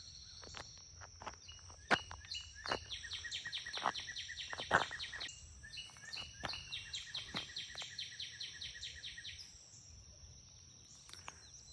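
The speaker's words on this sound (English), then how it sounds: "Look at those birds." Birds sing and chirp repeatedly in a steady, trilling series along the Panhandle Trail, fairly close, with scattered footsteps and faint insect noise beneath and no talking.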